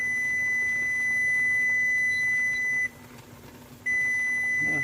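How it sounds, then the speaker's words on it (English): A kitchen timer beeps at a steady high pitch, breaks off for about a second, then starts again, heard close over faint room noise during pressure canning of black beans. "there's my timer"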